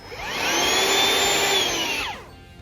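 Hoover vacuum cleaner switched on and off: motor whine rises, holds a loud steady drone with shifting pitch, then winds down and cuts out, close and alone.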